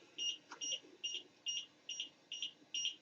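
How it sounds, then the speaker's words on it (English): A shrill electronic beep repeats in an even, steady rhythm, about seven short pulses over a faint background hum. "There's just a lot of beeping."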